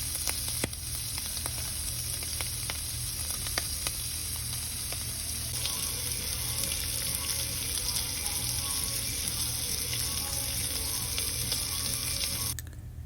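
Cajun sausages sauté in a hot pan, giving off a loud, steady sizzle and crackle that runs unbroken and close for over ten seconds, with no talking.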